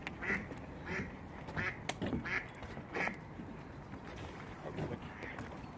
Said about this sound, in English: Oh, there's a duck.